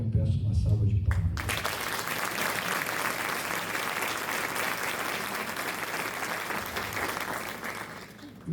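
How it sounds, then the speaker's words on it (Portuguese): Loud, sustained applause from the audience at a solemn ceremony marking the 80th anniversary of the INJC institute, rising after a voice at the start and holding as dense, even clapping to the end. "a quem eu peço uma salva de palmas"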